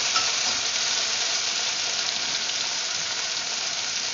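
Banana blossom and onion frying in a pan for a Filipino frog-leg kare kare stew, a steady close hiss of sizzling throughout with no talking.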